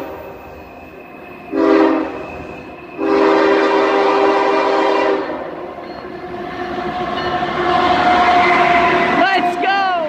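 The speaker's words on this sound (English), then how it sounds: "That is a Canadian Pacific locomotive." Canadian Pacific locomotive passing close and loud, with two long horn blasts followed by the rising rumble and rattle of the train rolling by, ending in squealing wheel sounds.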